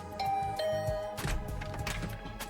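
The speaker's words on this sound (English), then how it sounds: "I rang the doorbell and waited." Doorbell chime in The Hundred Lines: Last Defense Academy, a couple of bright tones ringing out over soft game background music before the sound shifts into busier noise.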